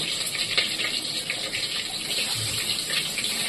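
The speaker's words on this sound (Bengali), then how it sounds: "মুগের ডাল আর আতপ চাল একসঙ্গে ধুয়ে নেব" Moong dal and rice being washed under running water, a steady loud gush and splash from a tap that continues throughout without pause, close by with no voices.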